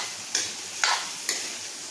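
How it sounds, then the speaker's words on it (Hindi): Masala for chicken gravy roasts in a pan under a faint hiss, broken by three short scraping strokes of a spoon spaced roughly half a second apart. "अभी इसको हम थोड़ा भूनने देंगे"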